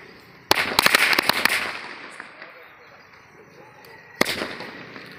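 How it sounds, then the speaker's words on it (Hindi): A string of tiny bijli bomb firecrackers goes off in a rapid crackling burst of sharp pops that trails away, followed after a pause by one more loud bang, heard outdoors at moderate distance. "तो दोस्तों अब इस छोटी वाली सबसे छोटे बिजली बम वाली लड़ी को जलाते हैं।"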